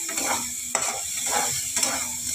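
Spice masala fries in a pan for a Bengali bhangor fish jhal, with a steady close sizzle and rhythmic stirring scrapes repeating every half second or so, plus a couple of sharp utensil taps.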